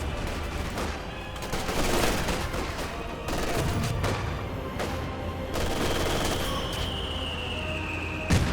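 Sustained automatic fire from an MG42 machine gun in the Company of Heroes 2 strategy game, dense continuous bursts over a constant battlefield rumble, with scattered sharper shots and a faint whistling tone near the end.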